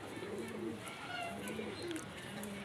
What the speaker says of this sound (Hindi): ये चेक कौन से ब्रीड का कबूतर है भाई साहब?